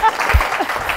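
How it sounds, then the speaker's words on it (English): An audience at a talk on bra fitting claps in a brief burst, a short patch of clapping with voices talking over it. "Clap for her."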